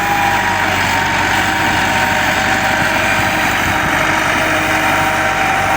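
A loud tractor engine runs continuously up close, a steady low rumble and drone with constant vibration and no talking.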